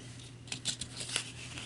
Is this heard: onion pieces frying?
no